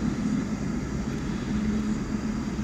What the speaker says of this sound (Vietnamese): đây là một chiếc máy bay phản lực kinh doanh hai động cơ